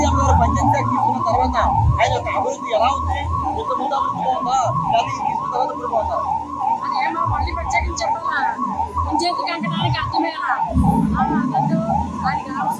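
An ambulance siren wails continuously and loudly at the Janasena Jayaketanam rally grounds in Pithapuram, its steady rising-and-falling tone running under people talking and crowd noise.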